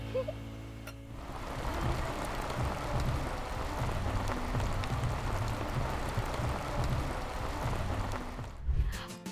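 Steady rain falls across an outdoor garden park at Khao Yai, Thailand, a dense hiss of drops on surfaces holding at an even level throughout with no talking.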